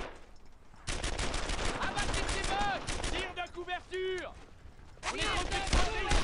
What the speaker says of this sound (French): On est en train de faire des tirs!